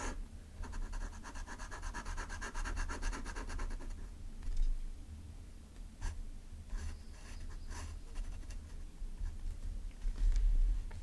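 A fountain pen nib scratches across paper in close, quiet strokes. Continuous writing fills the first few seconds, then breaks into shorter separate strokes with small pauses between them.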